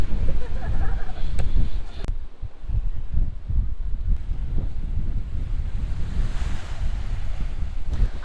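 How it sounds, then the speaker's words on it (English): Loud wind buffets the microphone over a steady roar of surf on the Greek island of Naxos, with waves rolling and washing close by throughout. "it's really windy, but the waves are strong here"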